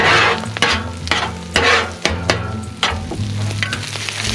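Eggs cooking on a Blackstone griddle, with a spatula scraping and stirring in repeated strokes over a steady loud sizzle, close up and with no voices.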